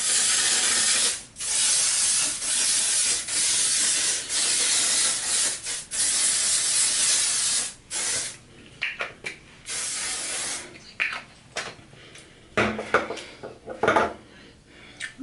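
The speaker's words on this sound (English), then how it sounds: "I'm gonna seal my hair in with this Got to Be High Insta Hold." Got2b High Insta Hold hair spray is sprayed onto hair in several long, loud hissing bursts, each broken by short pauses, followed by quieter handling taps and brief spritzes.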